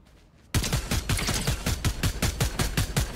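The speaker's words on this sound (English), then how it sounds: "They are shooting at me." Gunfire in the video game Fortnite breaks out after a short quiet moment and keeps going as fast, repeated bursts of shots. The loud, rhythmic cracks continue without pause, with no voices over them.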